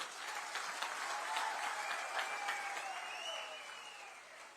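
An audience at a political rally in Billawar breaks into sustained applause, a dense wash of clapping from a large crowd that swells and then slowly fades, with faint voices underneath.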